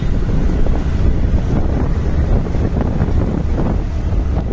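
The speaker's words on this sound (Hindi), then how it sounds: "ठंडा ठंडा हवा चल रहा है" Strong wind buffets the microphone in a steady, loud roar on a trek route near a hill fort outside Pune, rumbling continuously with no voices heard.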